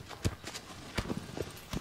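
Horse hooves galloping in the PS4 game Shadow of the Colossus, a quick irregular run of loud, close clip-clop hoofbeats over a short stretch, with no talking.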